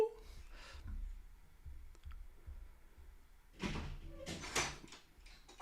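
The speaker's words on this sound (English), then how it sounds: "I just hear a door bang" A door inside a house bangs and clatters in a couple of sharp bursts, the loudest cluster late, against a quiet indoor background with faint low rumble.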